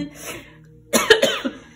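A short burst of coughing after a quieter stretch, with a few harsh, close hacks in quick succession.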